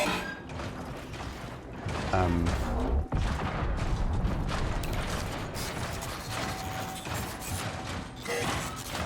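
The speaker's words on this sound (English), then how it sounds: "big clunky noises for the robots" Clunky mechanical robot enemies in the Marathon video game clank, ratchet and grind in dense, irregular bursts, fairly loud with a heavy crash partway through and no talking.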